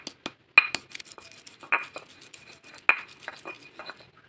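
Turmeric and ginger are ground together by hand for an Indonesian fish curry, giving sparse knocks and gritty scrapes with a couple of sharper clinks, close and intermittent, with no voices.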